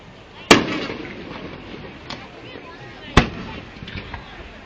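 Fourth of July fireworks in West Allis, Wisconsin, boom beneath a bridge: two sharp, loud reports about three seconds apart with echoing tails, plus a fainter pop between, over crowd murmur.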